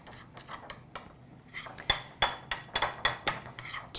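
A spoon stirs vanilla into a raw cacao truffle mixture in a bowl, giving a rapid run of close, bright clinks and scrapes against the bowl that grow louder and more regular toward the end, with no talking.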